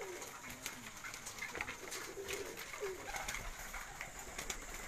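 Pigeons on a rooftop coo softly and repeatedly, low murmuring calls over a faint outdoor background with occasional light rustles.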